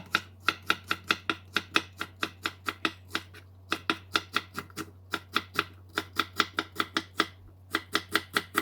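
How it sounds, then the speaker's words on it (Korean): A knife slices green onion (daepa) on a board in a steady, rapid run of crisp chops, close and clear, with only a few brief pauses. "대파 송송 썰어 주고요."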